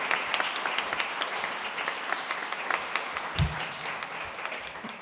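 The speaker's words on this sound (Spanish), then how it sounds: "así que un aplauso también." A book-launch audience claps steadily for about five seconds, a dense, even patter of many hands at moderate distance, with no voices over it.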